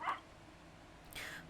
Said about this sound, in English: Sorry if you hear my dog bark in the background